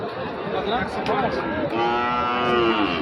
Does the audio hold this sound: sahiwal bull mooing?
yes